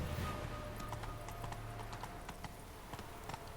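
Roach, a horse in The Witcher 3, trots with a steady run of light clip-clopping hoofbeats over a soft, constant background bed, fairly close and moderately loud.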